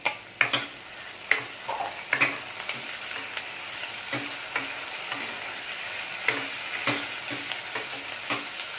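Tomatoes and ginger sauté on a medium flame for a cabbage and chana dal kootu, with a steady close sizzle broken by repeated sharp scrapes and taps of a spoon stirring the pan, and no voices.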